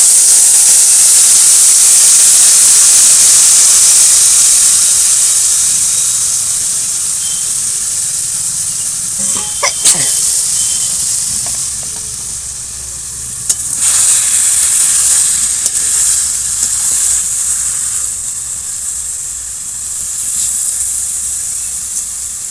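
Spice-coated small river fish, potatoes and green tomatoes dropped together into hot oil, giving a loud, steady sizzle and hiss that runs throughout with a few stirring clinks.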